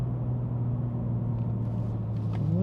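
A manual BMW M2 G87 engine drones low and steady under throttle from inside the cabin, a constant rumble with a faint rising tone near the end, no talking.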